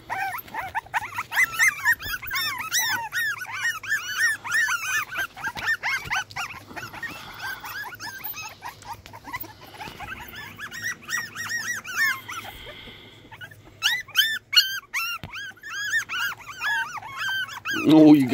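Puppies whimper and yip in high, wavering squeaks, several overlapping close by, with a person talking softly among them.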